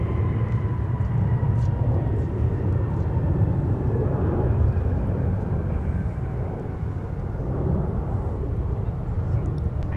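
A Sun Country airliner in simplified-titles livery arriving at MSP airport, its engines a loud, sustained low roar with a faint whine above, heard steadily throughout.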